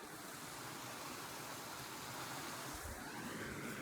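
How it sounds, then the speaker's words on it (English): A small waterfall along a mountain trail gives a steady, soft broadband rush of falling water, faint and continuous with no talk over it. "oh, here's a little waterfall."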